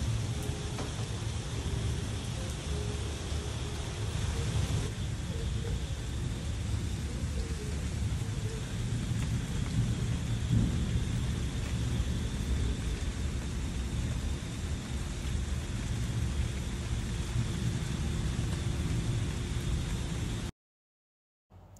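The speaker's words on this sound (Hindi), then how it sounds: "बाहर हो चुकी है बारिश स्टार्ट" Steady rain pours throughout with low rumbles of thunder underneath, a continuous wash of noise that cuts off near the end.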